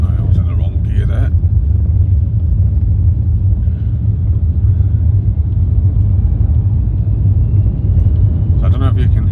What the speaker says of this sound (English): that sound of the turbo part of the engine is absolutely amazing